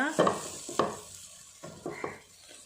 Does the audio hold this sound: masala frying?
yes